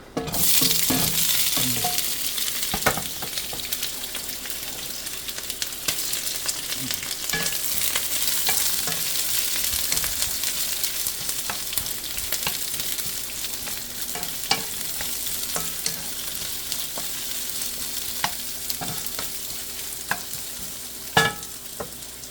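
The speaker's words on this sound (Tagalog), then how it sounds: "mag-gisa na tayo. Sabay-sabayin ko na." Ingredients for a monggo dish sauté in a hot pan, a steady close sizzle of frying broken by sharp scraping stir strokes and clinks against the pan, with no talking.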